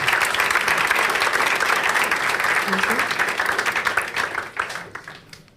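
Sustained audience applause at a business presentation competition, dense and steady, fading out toward the end.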